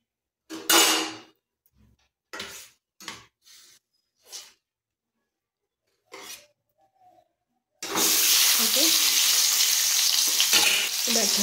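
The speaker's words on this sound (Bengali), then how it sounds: "এই যে মাছটা দেবো, দিয়ে ঢাকা দিয়ে ভাজতে হবে" Fish frying in hot oil in a pan, a sequence of short bursts of crackling spatter, then a loud, steady broadband sizzle takes over for the final few seconds, close by with no talking.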